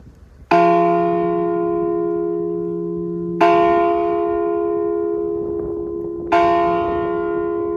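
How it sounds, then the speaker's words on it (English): Three loud strikes of a large Liberty Bell replica at a cemetery roadside attraction in Gotha, Florida, evenly spaced, each ringing out with a long sustained hum that slowly decays. "Ringing the bell"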